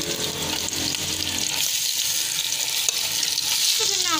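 A potato mixture goes into a pan of browned onions and fries with a loud, close sizzle, stirred with scraping sounds, the hiss staying strong and continuous.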